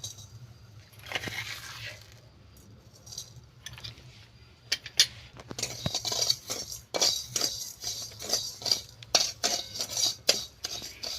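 Metal spoon clinking and scraping against a pan while sugar is stirred in over heat for fried tea, irregular sharp taps growing busier and louder over a low steady hum.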